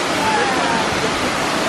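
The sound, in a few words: waterfall in Martinique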